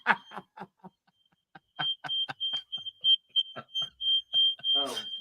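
Repeated electronic beeping like a smoke alarm, a thin high tone pulsing in rapid irregular bursts, with someone talking briefly at the start and end.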